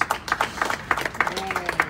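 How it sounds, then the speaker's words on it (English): Applause from the audience at a New York City Transit committee meeting, a steady patter of clapping heard through ongoing background speech. "Give yourself a big round of applause"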